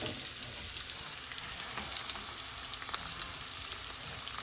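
Mustard seeds, urad dal, cumin, curry leaves and onion fry in oil for an okra stir-fry, making a continuous soft sizzle with faint crackles and occasional stirring, heard alone and fairly quietly.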